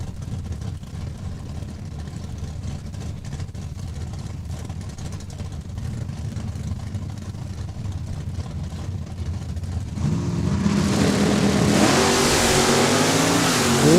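Mopar wheelstander drag race cars sit at the starting line at Saskatchewan International Raceway with a loud engine drone, then surge into a harsher, rising roar as they launch down the strip.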